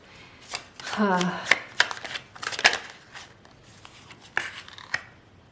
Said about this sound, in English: I'm just shuffling some cards here to get them out.